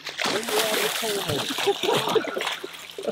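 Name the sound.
hooked trout splashing in the water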